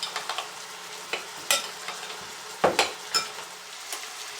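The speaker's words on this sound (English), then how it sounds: "So now it's frying nice." Lasagna filling of cottage cheese mixed with an egg sizzling softly in a pan, with scattered stirring scrapes and clinks over a steady low fry, no voices.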